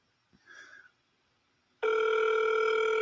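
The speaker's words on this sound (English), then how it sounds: "Please answer the phone this time." A telephone rings out on an outgoing call placed through an automated phone menu: a short faint rustle, then a loud, steady electronic ringing tone that holds alone to the end.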